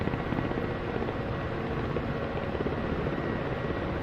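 Ka-50 Black Shark helicopter rotor and engine in a combat flight simulator game, a steady loud broadband whir and drone with faint rhythmic blade chop throughout, no voices.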